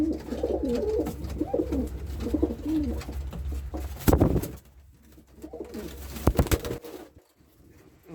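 Ornamental pigeons in a loft make repeated low cooing calls with sudden bursts of wing-flapping scuffles as they fight, all heard close up. Quieter pauses come between the flurries.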